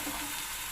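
Freshly washed moringa leaves hitting hot oil in a frying pan, a steady, loud, close sizzle with no pauses over a brief moment.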